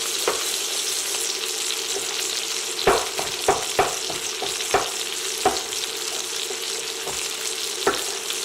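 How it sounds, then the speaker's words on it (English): A knife chops tomato finely on a board, a scattered run of crisp taps and knocks over a constant hissy background, irregular and close, with no voices. "by basically chopping your tomato finely, like this"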